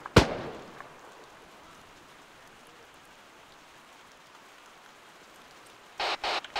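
Distant gunfire from Marines in the military shooter Arma 3: a single sharp report rings out at the start, then a long hiss of quiet ambience, and a few brief, boxy bursts cut in near the end.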